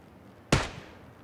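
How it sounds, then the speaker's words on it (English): A single sharp gunshot cracks out in PUBG, with a short fading tail and nothing else around it. "Oh, they're shooting each other."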